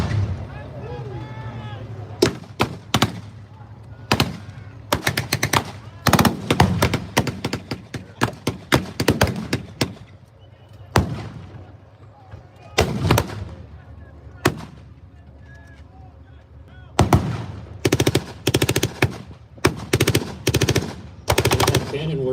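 Bursts of 50- and 30-caliber machine gun fire ring out at a WWII tank battle reenactment, rapid loud volleys and single cracks repeating in clusters over steady vehicle engine rumble.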